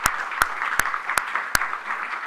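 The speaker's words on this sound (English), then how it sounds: "let's give them an applause." Audience applause at a city council meeting: a steady patter of clapping with one pair of hands close by striking sharp, evenly spaced claps that stand out above the rest.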